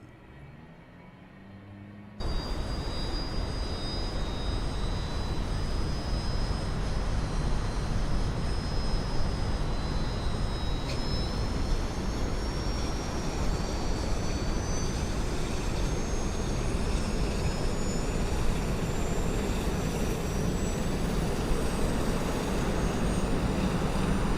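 Piaggio P180 Avanti II turboprop engine starting in Microsoft Flight Simulator 2024, a sudden loud steady roar with a rising turbine whine that holds on continuously, close and without talk.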